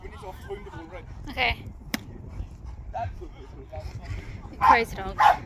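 A dog at a K9 training facility gives short yips, barks and whimpers in scattered bursts, with louder outbursts near the end, while people talk nearby.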